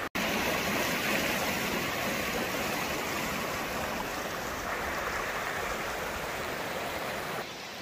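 River water rushes steadily in a broad, dense wash, close and constant for several seconds, then eases slightly near the end, with no voices.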